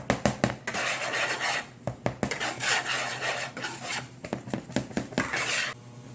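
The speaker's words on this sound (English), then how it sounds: "you have to mix them very well so that the salt, the baking soda, and the baking powder will mix well with our all-purpose flour" A spoon or whisk scrapes and clinks against a bowl while mixing all-purpose flour, salt, baking soda and baking powder for a zucchini Greek yogurt loaf, a steady close rhythm of rubbing and tapping with no talk.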